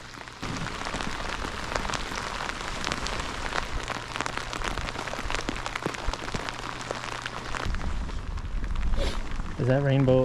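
Rain pattering steadily onto open water during a fishing trip in wild Pacific Northwest weather, a dense continuous hiss with scattered drop clicks, joined near the end by a brief tonal sound.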